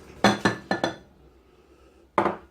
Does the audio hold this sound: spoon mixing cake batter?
yes